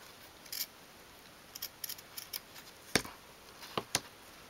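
Small scissors snip at material while making a 1/12th scale dolls house sofa, giving quiet, crisp clicks and short cuts spaced irregularly in a hushed room.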